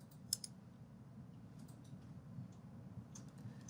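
Mouse clicks on a software button, a few faint sharp ticks scattered over quiet low room hum, close and isolated with no speech.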